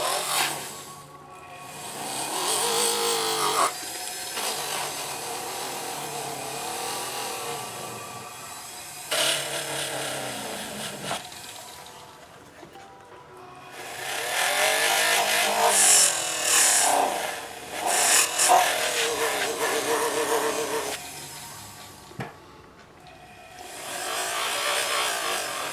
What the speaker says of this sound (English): Then I'll just use this little handheld buffing wheel to get out the final scratches.